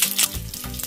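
Mustard seeds and curry leaves hit hot oil and crackle into a brief, loud sizzle with sharp popping bursts, close up, for a raita tempering.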